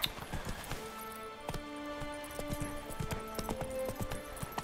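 Horse hooves clip-clop steadily in The Witcher 3 as Roach trots along, a brisk repeated clatter of close hoof strikes over faint background music, with no talk.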